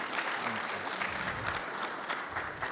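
Audience applause in a conference hall during an investment panel, a steady, moderately quiet patter of many hands clapping throughout the short stretch.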